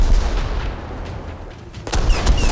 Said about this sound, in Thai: อุ้ยอาร์ติเรลีลงด้านหลัง